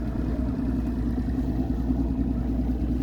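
A small boat outboard engine runs steadily nearby at Oakfield Provincial Park, a continuous low rumble with a faint clattering texture and no speech.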